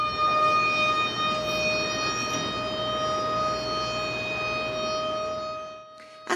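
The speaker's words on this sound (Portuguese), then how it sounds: "A sirene do memorial foi tocada igual em Israel, para 1 minuto de silêncio em memória às vítimas da Shoah" A memorial siren sounds for a Yom HaShoah minute of silence, one loud, steady, sustained wail that holds for about six seconds before fading at the end.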